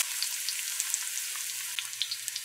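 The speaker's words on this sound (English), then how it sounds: "So you usually fry our onions up a bit" Onions sizzle in an oil-filled pan for roti preparation, a steady close crackling hiss with scattered small pops and no talking.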